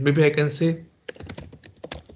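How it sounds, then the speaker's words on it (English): Keys clatter on a computer keyboard in quick irregular bursts, close and clear, after a brief spoken phrase. "So they go and start typing the short description."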